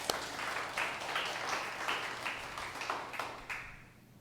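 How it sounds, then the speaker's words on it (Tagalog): A church congregation claps during a Sunday service, a faint, distant patter of hands with repeated bursts that fade out toward the end. "The best mong palakpak para kay Jesus."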